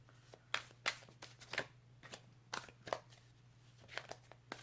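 Bursts of shuffling of large tarot cards, quick papery riffles and slaps repeating at an uneven pace, close and fairly quiet, with a low steady hum underneath.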